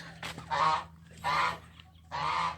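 Three loud nasal honks from geese outdoors on a free-range chicken farm, evenly spaced, close by, with a low steady hum underneath.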